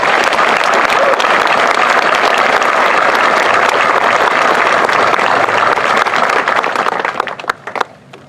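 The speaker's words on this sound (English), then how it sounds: "please join me one more time for a big round of applause for these awardees" Big round of applause from the audience for the awardees at an Army ROTC graduation ceremony at Fort Knox, a loud dense wash of clapping that holds steady for several seconds, then thins out and fades into scattered claps near the end.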